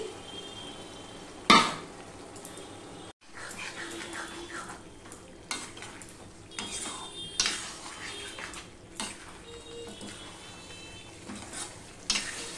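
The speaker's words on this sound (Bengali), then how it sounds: "পেঁয়াজ ভাজাটা দিয়ে আমি আরেকটু কষিয়ে নিলাম।" Mutton stir-fried with fried onions in a pan, a quiet sizzle broken by repeated clinks and scrapes of a spoon against the pan, no talking.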